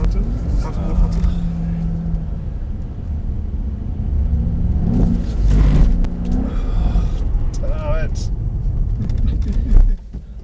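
A Mercedes-AMG SL63 accelerates on the Mercedes-Benz World race track, its engine a steady low rumble that swells and fades with throttle changes, while someone talks over it throughout.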